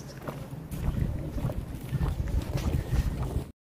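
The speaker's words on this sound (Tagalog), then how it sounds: "Lakas yung hangin." Strong wind gusting hard against the microphone, a loud buffeting roar that runs continuously until it cuts off abruptly.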